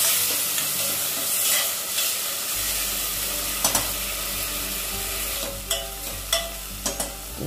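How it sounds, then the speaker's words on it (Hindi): Crushed garlic, onion and tomato frying in mustard oil for dal, a steady crackling sizzle with intermittent scraping stirs and clinks of a spoon against the pan, close and moderately loud, no talking. "सरसों का तेल डाल दिया है मैंने, लहसुन, प्याज, टमाटर को क्रश किया था उसको डाल दिया है। भून लेते हैं तेल छोड़ने तक"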